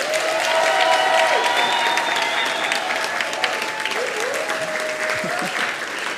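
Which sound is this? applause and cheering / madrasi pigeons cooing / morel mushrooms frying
applause and cheering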